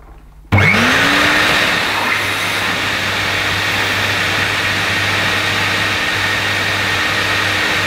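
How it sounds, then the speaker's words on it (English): An Electrolux Masterlux 3-in-1 vacuum cleaner with a faulty pump switches on abruptly, its motor rising quickly in pitch to a loud, steady whine and rushing airflow, with a low hum from the pump running alongside. "the pump will only run when the motor runs"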